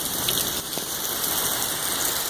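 Heavy thunderstorm rain pours in sheets off houses, a dense, loud, continuous hiss and splatter of water on surfaces and pavement, close by, with no voices.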